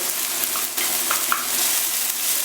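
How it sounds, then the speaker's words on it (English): Onions and garlic sizzle steadily in olive oil in a pan over medium-high heat, a continuous close frying hiss with a few soft stirring taps, no talking. "Just add the onions"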